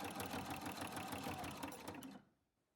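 Sewing machine fitted with a ruffler attachment stitching fabric into pleats, a tuck every sixth stitch: a fast, even mechanical chatter close by that runs steadily, then stops abruptly near the end.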